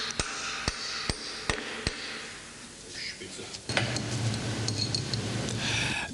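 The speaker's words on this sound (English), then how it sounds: "Drive the clutch flange on as far as possible." A clutch flange is hammered onto the drive shaft of a Linde H30 forklift transmission in a workshop: five sharp metallic blows at a steady rhythm, then a lower rumbling noise takes over.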